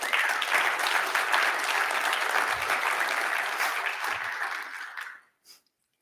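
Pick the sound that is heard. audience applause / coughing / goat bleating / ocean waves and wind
audience applause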